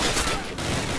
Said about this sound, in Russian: Это же пулеметчик.